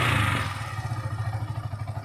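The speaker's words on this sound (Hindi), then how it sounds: "अब इंजन का साउंड भी यहाँ देख लीजिए, मस्त मौला मक्खन जैसा साउंड हो गया है।" A Yamaha R15 V3 motorcycle engine idles smoothly after a full service, a steady rhythmic low putter with even pulses, close and alone.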